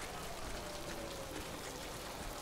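Heavy rain in the video game Death Stranding, a dense, continuous hiss of downpour filling the clip at a steady level with no talk.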